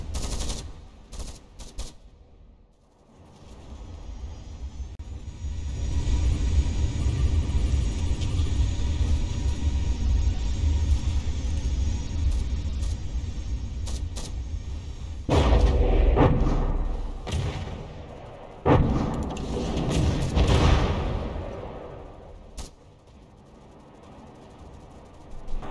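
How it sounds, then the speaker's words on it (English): Ships firing in the Space Engineers video game during a fleet battle: a heavy rumbling barrage of cannon and gunfire that swells, cuts out abruptly, then bursts back in with loud thudding volleys before fading. "This corvette frigate is shooting itself."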